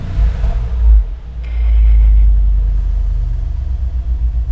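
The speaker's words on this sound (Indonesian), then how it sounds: "Kalau kita masukin ke Sport Plus, dia suara knalpotnya lebih menggema." Exhaust of a Mercedes-AMG G 63 in Sport Plus mode, a deep, loud rumble that swells and holds, then settles into a steady idle-like burble, close by with no talking.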